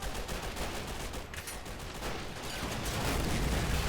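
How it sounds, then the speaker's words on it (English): Heavy machine guns rattle in sustained bursts amid a chaotic battle in the video game Men of War, with Soviet forces assaulting a Japanese pagoda temple, dense overlapping gunfire building louder toward the end. "we got some heavy machine guns coming in"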